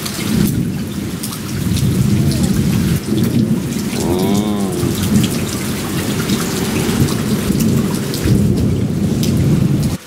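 Heavy rain pours steadily while a deep rumble of thunder rolls underneath, loud and continuous.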